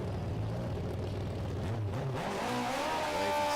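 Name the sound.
motorcycle engine revving during a drag racing burnout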